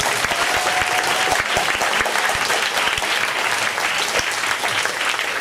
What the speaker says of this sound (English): let's give a round of applause to both teams.